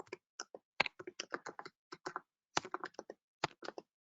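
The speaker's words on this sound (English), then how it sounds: "Sorry, my typing is bad today." Typing on a computer keyboard, close and fairly quiet, with irregular bursts of key clicks separated by short pauses.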